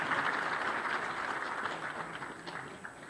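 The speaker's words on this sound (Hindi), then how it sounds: "तालियों से स्वागत कीजिए, बहुत ही उत्साह के पल हैं" A crowd at a political rally in Uttar Pradesh claps continuously to welcome speakers, a dense, even wash of applause that slowly fades slightly over a few seconds.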